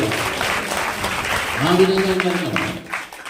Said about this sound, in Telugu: గట్టిగా చప్పట్లు కొట్టి దేవుని స్తుతించండి